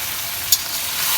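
Fish curry (ail fish) sizzling and frying in a pan while being stirred, a steady close hiss of hot oil with one brief scrape of the spoon midway.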